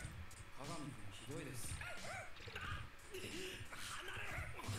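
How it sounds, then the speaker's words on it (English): A dog yips and barks in short bursts in an episode of the basketball anime Kuroko no Basket, mixed in with lively voices talking over it. "Ooh, you get to bring the doggy?"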